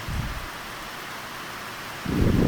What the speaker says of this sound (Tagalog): So, maulan kasi ngayon guys.